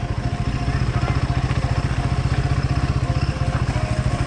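A motorbike engine chugs steadily up close with a regular low pulsing as it rolls through a small water crossing on a rough mountain track near Nagar, with some clatter over the engine.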